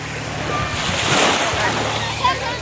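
Sea surf washes onto the beach at Lubo, Batangas, a broad steady wash of breaking waves with some wind rumble, close and moderately loud, with faint background voices from a crowded shore.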